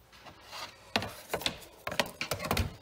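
Short rasping strokes of a hand saw through the end of a wooden Halloween sign, a few uneven scrapes close by in a quiet garage.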